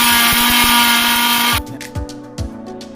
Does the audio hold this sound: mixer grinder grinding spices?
yes